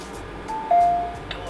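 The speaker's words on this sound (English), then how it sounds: "The panel will chime when you do it right." A Cove home security panel gives a short electronic chime as a door sensor is activated, two brief tones rising over a steady background hum, with a person speaking faintly nearby.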